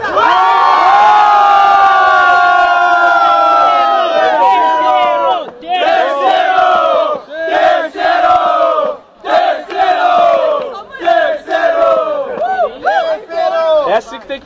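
Loud crowd at a Brazilian battle competition final, with energetic shouting and chanting that rises and falls in waves, voices yelling close by through the whole stretch.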